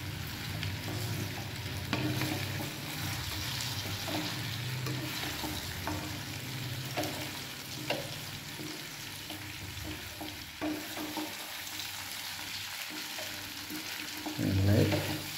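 Food frying and sizzling in a pan with spices while being stirred steadily, a continuous crackle with scraping strokes throughout and no talking.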